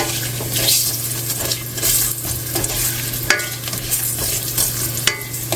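Curry goat seasoning sizzles and crackles steadily in hot oil on a high flame, with repeated scraping stirs of a spoon against the pot running throughout, close and fairly loud, with no talking.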